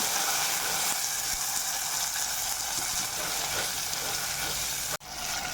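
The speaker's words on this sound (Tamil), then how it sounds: "அதையும் சேர்த்து நல்லா வதக்கி விட்டுக்கலாம்." Black chickpeas are sautéed with garlic and onion in hot oil, a loud continuous close sizzle with soft stirring scrapes, cut by one sharp knock near the end.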